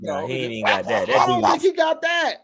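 A voice imitates a dog bark with short, yappy, high-pitched yelps mixed into casual talk among men.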